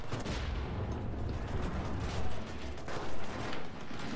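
Steady gunfire in the WWII shooter Enlisted, a dense continuous crackle of shots with a few louder booming bursts, no voices.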